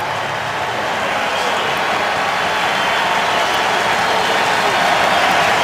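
A football stadium crowd roars steadily and loudly during a Buccaneers at Panthers game, a dense, continuous wash of cheering that swells slightly toward the end with no break.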